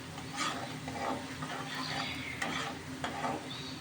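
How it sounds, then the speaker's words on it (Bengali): Green chilies sizzle in mustard oil for a Bengali tangra fish dish. The loud, crackling fry is broken by repeated stirring scrapes, with no voices. "ভালো করে একটু কষিয়ে নেব"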